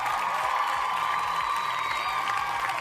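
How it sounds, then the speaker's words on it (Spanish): Applause from a crowd, a steady wash of clapping at moderate distance that holds evenly throughout, with faint chatter underneath. "Aquí me dicen aplausos para chat y sí, un aplauso."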